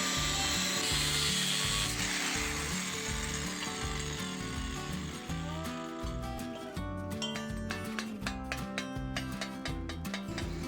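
Metal plate being cut along a marked pattern for a homemade shredder and hammermill, a loud continuous grinding cut with harsh metallic ringing and rapid chattering bursts in the second half.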